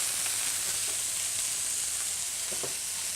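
Flour-dredged chicken pieces fry over high heat in a hot skillet, giving a steady, close sizzle and crackle throughout with a few faint stirring taps and no talk.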